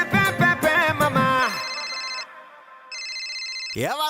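A phone ringtone chimes twice during a kids' dance class, a pair of bright, steady electronic tones cutting in after loud dance music stops, with a voice breaking in at the end.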